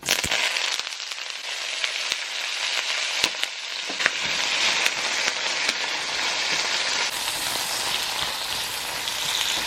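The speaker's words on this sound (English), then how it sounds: "I'm gonna add my bell peppers, the onion, garlic, hot pepper, and thyme in, so I can get them sauteed." Bell peppers, onion, garlic, hot pepper and thyme sauté in hot oil for ground beef, giving a loud, steady crackling sizzle with a few sharp pops near the start.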